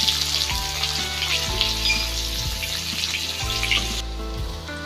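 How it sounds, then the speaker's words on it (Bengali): Chopped onions sizzle steadily in hot oil left over from frying pointed gourd pieces, a dense continuous crackle with no talk, while soft tonal background music runs underneath. "এবার ওই তেলেই দিয়ে দেবো কুচিয়ে রাখা পেঁয়াজ।"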